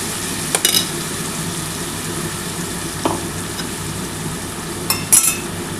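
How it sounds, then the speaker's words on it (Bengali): Marinated young goat meat sizzles in hot oil with a steady, even frying hiss, close up, broken by a few brief metallic clinks of utensils against the pot. "সেই তেলের মধ্যে এই যে মাখিয়ে রেখেছি মাংসটাকে ঢেলে দিলাম"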